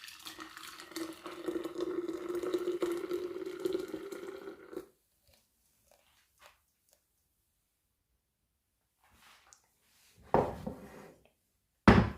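Liquid streams steadily into a container for several seconds, then stops; a couple of brief splashes and a sharp clunk follow after a quiet pause.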